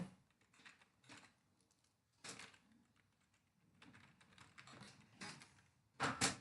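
Computer keyboard clatter while Java code is written, with quiet scattered bursts of key taps separated by short pauses, heard close and alone.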